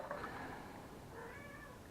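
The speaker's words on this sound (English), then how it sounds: "And that's one of my cats in the background." A domestic cat meows faintly in the background, two drawn-out calls, quiet and distant beneath a steady room hiss.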